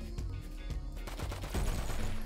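Rapid bursts of automatic gunfire in a GTA V Online deathmatch, several sharp cracking shots in quick succession with a dense run of firing toward the end, loud and close.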